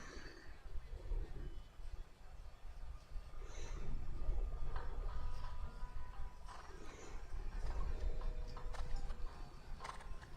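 Horse hooves thud and clip-clop on an arena surface during a dressage test at an international eventing competition, with soft irregular footfalls and occasional snorts or creaks over a low outdoor background.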